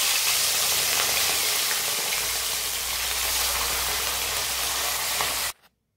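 Fish frying in mustard oil, a dense, steady close sizzle with crackling, loud and continuous before cutting off abruptly near the end, no talk.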